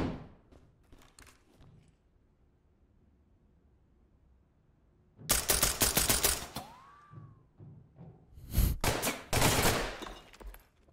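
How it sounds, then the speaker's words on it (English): Bursts of gunfire in the tactical shooter Ready or Not, loud and close: a dense volley after a quiet stretch, then more sharp clustered shots toward the end, with faint talk early on. "Is that you shooting at me, bitch?"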